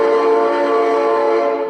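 A train horn sounds as a sound effect, one loud, sustained, steady chord-like blast lasting under two seconds and fading slightly at the end.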